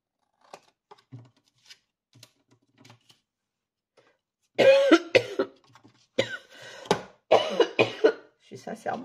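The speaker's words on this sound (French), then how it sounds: "Vous allez m'entendre tousser tout au long de la vidéo." A woman coughs repeatedly while cutting paper for a vintage craft album cover; faint scattered coughs and snips come first, then louder, sharper coughing bursts in quick clusters close to the microphone.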